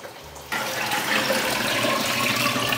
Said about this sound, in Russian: А сейчас мы сразу наливаем нужный объем воды и перемешиваем эту кашу.